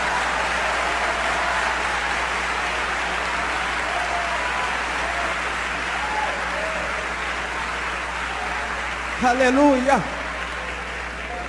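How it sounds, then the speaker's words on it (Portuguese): A church congregation applauds in a sustained, even wash of clapping lasting over ten seconds, with a loud voice calling out briefly near the end. "Aplaude ao Senhor, aplaude ao Senhor."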